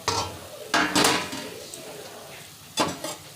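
A metal pot lid clanks and scrapes as it is lifted off a bubbling gravy, with two or three sharp close metallic knocks over a soft simmering background.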